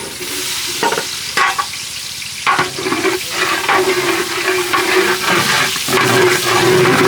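Ghee and onions frying in a pan for a large batch of beef tehari, a steady loud sizzle with a few sharper clatters and stirring scrapes throughout, no voices.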